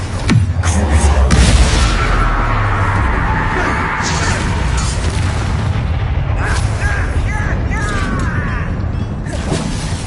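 A Bombarda blasting spell goes off in Hogwarts Legacy with a loud, deep explosive boom near the start, followed by rumbling debris and clattering mechanisms in a busy game combat soundscape.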